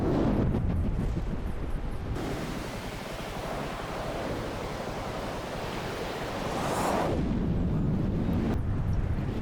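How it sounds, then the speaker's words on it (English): A heavy, rumbling explosion in the video game From the Depths swells into a long roaring blast, loud and sustained, cutting off abruptly near the end. "we have a big explosion here"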